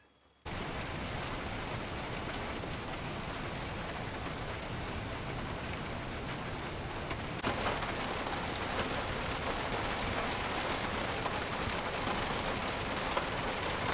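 Heavy summer rain falls at a campsite, a dense steady roar of droplets that starts abruptly after a moment of silence and continues unbroken, thickening slightly partway through, with no voices.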